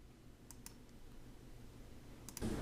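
A few sharp, faint computer mouse clicks come in small pairs against quiet room tone, followed by a louder rustling bump at the end.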